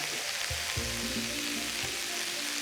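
Shredded cabbage stir-fries in a wok, a continuous loud sizzle with scraping and tossing noises running through it.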